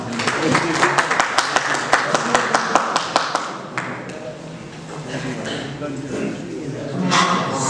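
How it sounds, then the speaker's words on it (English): A small group at a dealer meet claps for a volunteer, a run of sharp, distinct hand claps that thins out after a few seconds while people keep talking and murmuring underneath. "let's have a round of applause for her."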